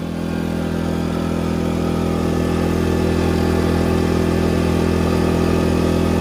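A small iPower portable generator engine idles loudly and steadily close by in low-idle mode, a constant low mechanical drone with no change in speed and no talking.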